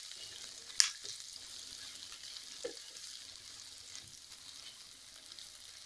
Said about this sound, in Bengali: আদা রসুনের পেস্টটা ভালোভাবে দিয়ে ভাজবো, যাতে আদা রসুনের কাঁচা গন্ধটা না থাকে।